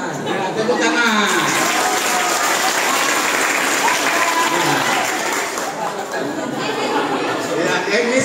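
Students on a school study tour break into dense, continuous applause mixed with crowd chatter, loud and close, holding steady throughout before easing slightly near the end.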